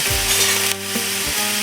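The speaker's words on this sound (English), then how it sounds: "Now what we're going to do is basically just saute this." Picadillo ingredients sauté in a hot pan with a loud, continuous close sizzle and a few brief stirring scrapes, no voices.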